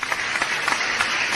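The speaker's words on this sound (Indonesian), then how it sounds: "kita berikan tepuk tangan untuk beliau" A crowd applauding a teacher, steady dense clapping throughout the short stretch, fairly loud and close, with no voices over it.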